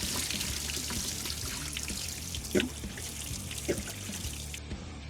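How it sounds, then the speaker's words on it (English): Water drains from the tank of a BOMAG light tandem roller, a soft continuous pouring trickle with a couple of brief louder splashes, heard nearby without speech. "remove the hose and the tank cap to drain the tank"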